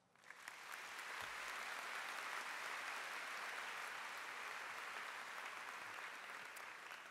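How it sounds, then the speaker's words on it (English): A large audience at a university opening convocation applauds steadily and loudly, a dense roll of clapping from many hands that swells in quickly and holds without a break. "Please greet these individuals with your applause."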